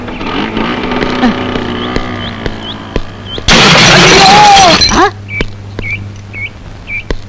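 A sudden loud broadband scooter crash bursts in for about a second and a half, cutting through a steady engine hum and scattered chirps before quieting.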